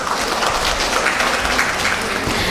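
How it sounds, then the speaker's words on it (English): An audience at a national nursing conference applauds a speaker, a dense, steady wash of clapping that runs from start to end at moderate volume. "Please give a round of applause for Madam."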